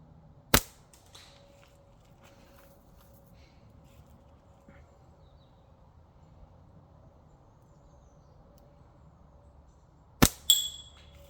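Slingshot shot striking a metal spinner target in a tree about 15 to 20 metres away: two sharp, isolated cracks about ten seconds apart, the second followed by a brief ringing clatter, against a quiet outdoor background.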